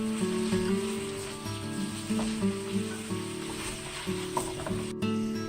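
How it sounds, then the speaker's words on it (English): Celery and carrots sizzling and beginning to caramelize in olive oil in a pan, a steady close crackling fry with occasional stirring and faint tonal background music. "Now that the vegetables are starting to caramelize in the olive oil"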